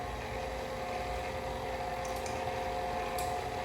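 An electric mixer whirs steadily through spice cake batter with nutmeg and allspice, a continuous even motor hum with no pauses.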